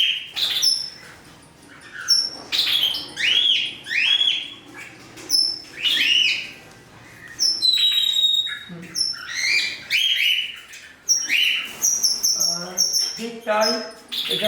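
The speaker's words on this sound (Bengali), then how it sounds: "ককাটেল পাখি হাঁড়ির মাথায় বসে রয়েছে আর ভেতরে একটা পাখি ঢুকে রয়েছে।" Cockatiels at a breeding pot give repeated sharp chirps and short squawking calls in irregular bursts, close and fairly loud, while a person talks throughout.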